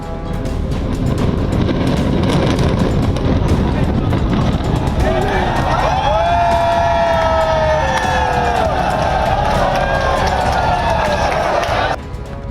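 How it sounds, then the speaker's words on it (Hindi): A siren rises and wails over a noisy crowd and rumbling background during the demolition of the Twin Towers in Noida, its pitch sweeping up and down before cutting off abruptly. "सायरन की आवाज तेज होती चली गई"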